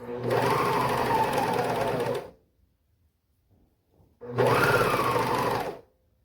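A sewing machine stitches doll sweater fabric along a curve for a Minikane doll, running in two steady bursts of about two seconds each, separated by a short quiet pause.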